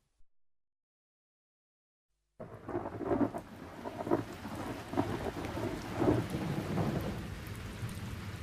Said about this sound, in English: The rain fell. Hour after hour it rained.